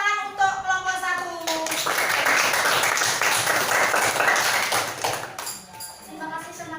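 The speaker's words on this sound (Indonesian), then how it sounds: "Tepuk tangan untuk kelompok 1." Classroom applause for a student group, several seconds of steady clapping from many hands, with a voice speaking before and after.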